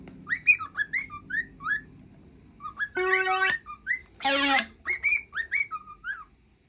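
A pet cockatiel whistles a string of short chirping phrases with a couple of longer, louder harmonic whistles in the middle, close and clear with no talking.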